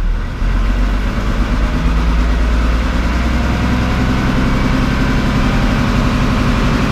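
A tractor engine runs steadily at about 1300 to 1400 rpm with hand throttle, a loud, constant, deep rumble with no clear rise in pitch.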